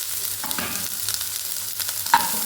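Green peas being stirred into a cauliflower filling in a frying pan, with a soft continuous sizzle and scraping stirs running throughout at close range, no voices.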